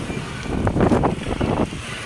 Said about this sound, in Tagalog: hanggang ngayon malakas pa rin yung hangin